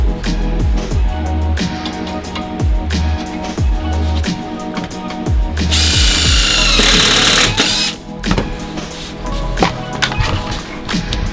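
A CNC router makes a surfacing pass over wood, the spindle whining steadily while repeated cutting sweeps rise and fall in a rhythmic pattern, with a brief burst of harsher, louder cutting midway.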